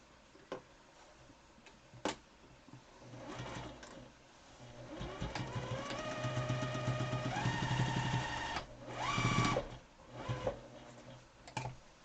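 A sewing machine stitching an N95 mask, with a few isolated clicks and then a run of rapid mechanical stitching that builds, pauses and starts again before trailing into more clicks, close and quiet, with no talk.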